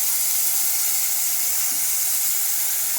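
Ground tomato mixture for rasam poured into a hot pan, giving a loud, steady, close sizzling hiss that holds evenly throughout with no voices.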